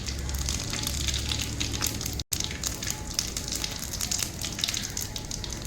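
Cumin seeds fry in hot oil with a steady, dense sizzle and crackle, close and continuous, broken only by a very brief dropout partway through.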